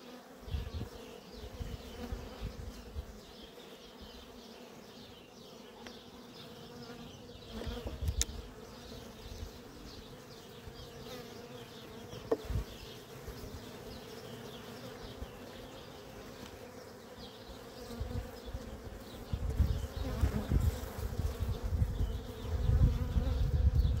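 Honey bees buzz inside an opened beehive during an early spring colony check, a steady, dense hum that grows louder and rougher toward the end, with no talking.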